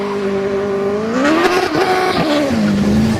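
A Grand Prix Academy racing car's combustion engine holds a steady droning tone, then revs up and shifts pitch with brief stutters before settling lower, loud and close throughout with no talk.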